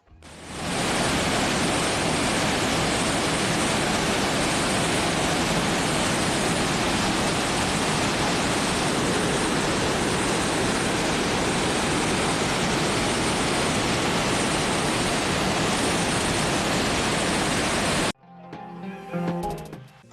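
The Pushpawati, a Himalayan mountain river in the Valley of Flowers, roars steadily and loudly, a dense unbroken rush of water that cuts off abruptly near the end.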